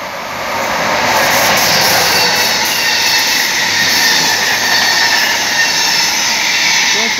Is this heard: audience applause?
no